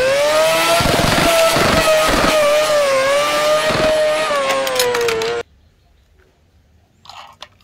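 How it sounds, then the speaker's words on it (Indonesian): A red supercar's engine roars loudly and close in a high, sustained revving whine with a few throttle surges, then cuts off abruptly, leaving near silence with a faint click. "Supercar berwarna merah."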